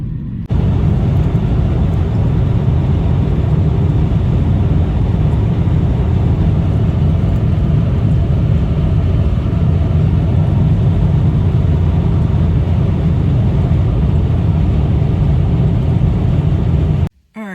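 Steady road noise from inside a car cruising on a highway, a constant loud low rumble and whir that holds for most of the clip, then cuts off abruptly.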